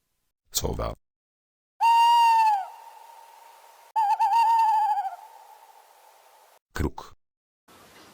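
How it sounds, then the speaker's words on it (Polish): An owl calls with two drawn-out, steady hooting tones, the second wavering slightly, heard close and clear between sharp clicks at the start and end. "Sowa."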